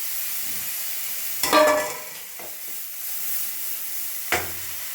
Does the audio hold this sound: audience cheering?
no